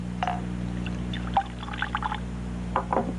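Foley pour of water from a pitcher, a few short bright splashes and gurgles in separate bursts over a low steady hum, close and fairly clear, with no speech.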